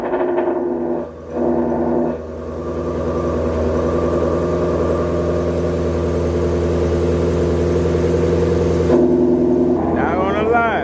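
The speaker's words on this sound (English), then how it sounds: "But I'm finna get y'all a cold start." A 2020 Ford Shelby GT350 runs through a cold start, its engine settling into a loud, steady, low idle that holds close by, with a brief dip early on and a short surge near the end.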